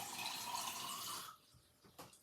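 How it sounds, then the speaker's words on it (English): A cup of water poured into a blender for a breakfast smoothie, a steady close splashing stream for about a second and a half, then quiet with a small splash near the end. "So I'm gonna put a nice lovely cup of water inside of the blender like this."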